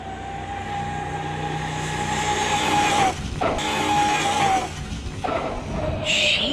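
An Arrma Outcast V2 RC car running on 6S launches over a speed jump. A loud, steady high-pitched motor whine runs throughout, dropping briefly twice as the car leaves the ground, then returning.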